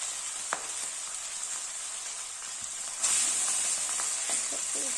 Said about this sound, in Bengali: তেলটা গরম করে নিয়েছি গরম করে এবার মাছ মাছটা দিয়ে দিলাম